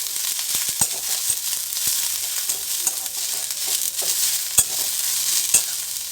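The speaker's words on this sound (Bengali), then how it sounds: "পেঁয়াজটা এখানে খুব বেশি ডিপ ফ্রাই করব না, তবে হালকা একটা গোল্ডেন কালার আসা অবধি ভেজে নেব।" Sliced onions frying in oil in a pan, a steady close sizzle broken by scattered stirring clicks and scrapes, with no talking.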